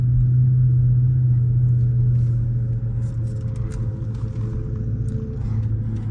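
Dodge Charger RT engine rumbles loud and close with a deep steady drone, easing slightly as the car settles into cruising.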